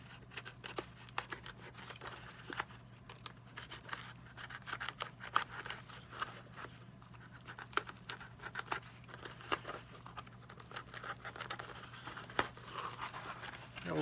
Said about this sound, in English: Just basically cut the stitches away from that's holding the lining